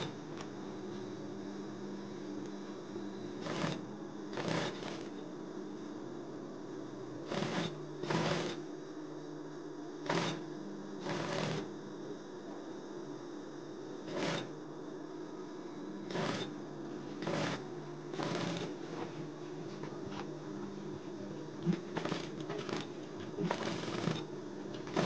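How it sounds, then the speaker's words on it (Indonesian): A sewing machine stitches a shirt collar, steady low mechanical hum of the motor broken by repeated rapid clattering bursts of stitching every few seconds, close and moderately quiet, with no talk. "Kita jahit tutup yang ini teman-teman, seperti ini."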